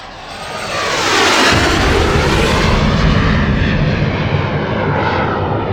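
In an air combat video game, missiles are fired at an F-15E jet, a loud, sustained roar of rocket and jet engine noise that swells within the first second and holds steady, dense and close.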